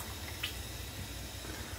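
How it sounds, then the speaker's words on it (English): Running water splashes steadily over a man's head as he rinses it before a razor shave, a continuous close wash of liquid with no talking. "And let me rinse my head real quick."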